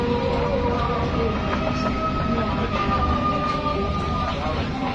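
A sleeper train runs from Hanoi to Hue in Vietnam with a steady loud rumble and rattle from inside the carriage, faint wheel squeal and rhythmic track clatter underneath, and voices murmuring in the background.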